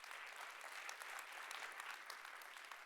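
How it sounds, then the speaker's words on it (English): An audience at a World Food Day event on food as medicine applauds steadily, a dense, even wash of clapping that holds for about three seconds without a break. "Please give them a round of applause."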